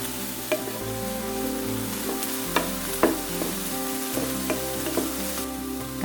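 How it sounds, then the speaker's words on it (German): Diced aubergine frying in a wok-style pan with spring onion, ginger and five-spice for a Chinese dish: a steady, close sizzle with periodic sharp clinks and scrapes of stirring, no talking. "Auberginewürfel in die Pfanne geben und 2 Minuten braten."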